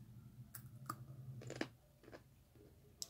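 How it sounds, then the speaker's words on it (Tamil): Raw mango slices dusted with salt and red chilli powder are chewed close to the mic, giving a few soft, crisp crunches and clicks spread over a short, quiet moment. "சவுண்டு கேட்குதா? சாப்பிட்றது"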